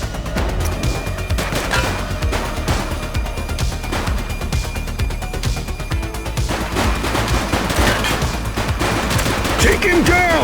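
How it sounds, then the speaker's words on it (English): Rapid gunfire crackles through a police shootout in The Precinct game, dense bursts layered with impacts and crashes across the whole stretch, with scattered voices shouting over the action. "He's shooting!"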